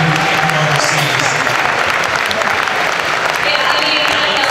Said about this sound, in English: Give a round of applause for those people who came from overseas